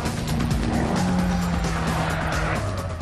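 A Nissan drift car slides with sustained tire squeal over a loud, revving engine, the squeal's pitch shifting across the short, continuous burst.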